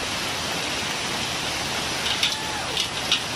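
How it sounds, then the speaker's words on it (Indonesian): Heavy rain pours near Mahua Waterfall in Tambunan, a steady, dense hiss that fills the whole clip, with a few brief brighter splashes toward the end. "Oh, hujan makin kuat, saya akan berhenti dulu kawan-kawan."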